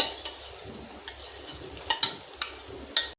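A spoon stirs cumin powder into cooked dal in a pan. Soft scraping runs under a few sharp metallic taps and clinks against the pan, which grow louder toward the end, with no talking.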